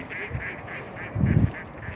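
Ducks quacking on a farm in a quick series of nasal calls, about seven in two seconds, close and clear, with a louder burst of low, throaty quacking in the middle.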